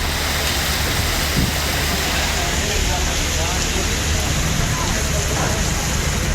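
Heavy monsoon rain pours down steadily in Ranipet district, Tamil Nadu, a dense, loud, continuous hiss with no breaks.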